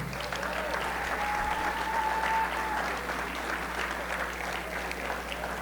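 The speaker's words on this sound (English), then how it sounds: "Let's clap it up for him again." An audience at a sports hall of fame ceremony applauds steadily throughout, a dense wash of clapping hands with crowd noise, sustained and fairly loud.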